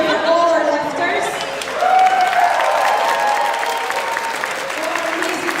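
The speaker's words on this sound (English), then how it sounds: "Can we have a massive cheer for all our lifters?" Crowd cheering and applauding at a Scottish powerlifting classic championship, a sustained wash of clapping and shouts close by that swells around the two-second mark and then holds steady.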